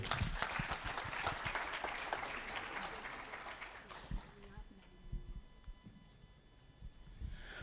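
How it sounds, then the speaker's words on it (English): An audience applauds in a dense burst of clapping that fades after a few seconds, leaving scattered claps and faint room murmur. "please, a round of applause for them just once again"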